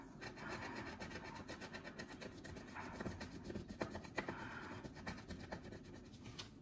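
Close, faint scraping and rasping of a coin rubbing across a scratch card comes in quick repeated strokes, with short pauses between bursts.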